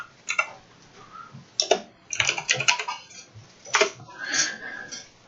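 Keys tapped on a computer keyboard while typing a command into a Windows 8.1 command prompt: irregular bursts of quick clicks with short pauses between them, close and fairly clear, with no talking.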